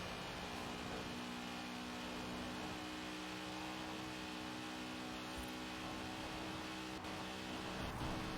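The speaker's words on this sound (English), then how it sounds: "Well, it's bouncing off the rev limiter now." Porsche Emory 356 RSR in Forza Horizon 4 holding a steady high-rpm engine drone against the rev limiter, a sustained buzzing tone with layered harmonics, fairly quiet and unbroken.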